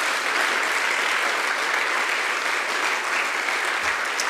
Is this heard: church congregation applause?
yes